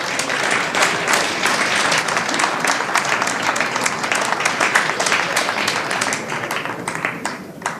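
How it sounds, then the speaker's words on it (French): Audience applause after a presentation on the redevelopment of the Place d'Armes in Yverdon-les-Bains, a dense, steady wash of many hands clapping at full strength for the whole stretch, easing slightly at the very end. "je pense qu'on peut les applaudir"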